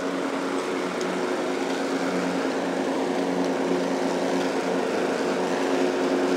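A lawn mower cuts a residential lawn, working close by with a loud, constant engine drone that holds steady from start to finish, with no talking.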